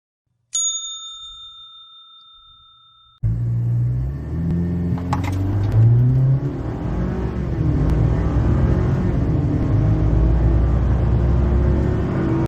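Engine of a 2019-2023 Ford Ranger with an S&B cold air intake roaring up through the gears in a hard 0 to 60 launch, loud and continuous with rising pitch sweeps, preceded by a chime-like tone.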